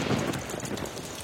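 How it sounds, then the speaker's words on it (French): Cartoon rain effect as a shower begins to fall, a dense, steady hiss of many small drops with a soft low rumble beneath, fairly close and even throughout, with no voices over it. "Ah vite, voilà qu'il pleut."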